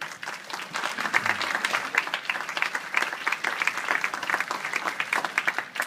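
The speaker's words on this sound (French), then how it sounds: "On va peut-être l'applaudir très fort" A festival audience in a theater applauds an actress arriving on stage, a dense crackle of many hands with faint rhythmic pulses, sustained throughout.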